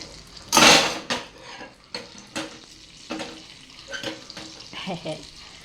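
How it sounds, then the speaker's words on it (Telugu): Cumin seeds sizzle in melted butter in a pan at the start of a palak khichdi, with one loud burst of frying followed by several short clattering utensil knocks and softer crackle in between. "ఒక పాన్లో బటర్, దాంట్లో కొంచెం జీలకర్ర"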